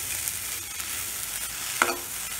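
Onions and tamarind sautéing in a pan give a steady, soft sizzle with faint stirring scrapes, close and alone, with one brief louder clink near the end.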